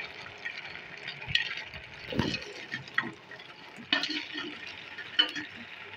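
Fried cauliflower florets tipped into a thick Manchurian gravy and stirred through, giving soft wet squelches and scrapes with a few sharper clatters against the pan, fairly close and moderately quiet.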